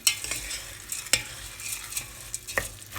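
Noodles fry in butter in a pan, a quiet steady sizzle broken by sharp utensil scrapes and clinks against the pan, close by and with no talk.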